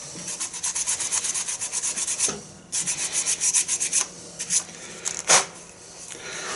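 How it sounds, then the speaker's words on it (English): Sandpaper rubbed against turned wood on a lathe, a steady rapid scratchy rasping in close bursts, with a brief pause and a couple of louder strokes toward the end. "A little bit of sandpaper."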